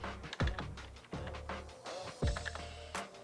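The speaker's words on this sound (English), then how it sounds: "I can't type today. I'm terrible at typing." Someone types on a computer keyboard close up, with a few uneven bursts of key clicks and thumps separated by short pauses.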